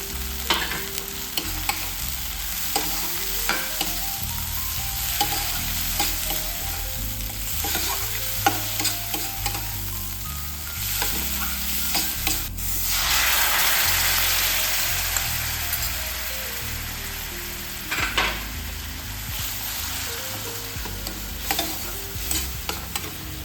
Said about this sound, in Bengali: এবার এখানে আমি কাশ্মীরি লঙ্কার গুঁড়োটা দিয়ে দিচ্ছি।